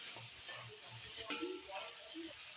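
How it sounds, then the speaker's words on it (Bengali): Soybean chunks and poppy seed paste stirred in a frying pan, a faint, low sizzle with a few soft scraping strokes and light clatters, quiet and close. "আবার একটু নেড়ে দিলাম"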